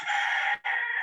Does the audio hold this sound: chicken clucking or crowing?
yes